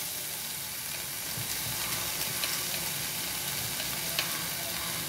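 A pan of cumin roasting for a pasta dish sizzles with a steady, soft hiss while a spoon scrapes and stirs it now and then, close up and without talk.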